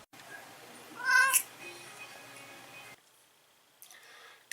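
A cat meows in a short burst of rising cries near the start, fairly close over low background noise, followed by quiet, then a faint rustle.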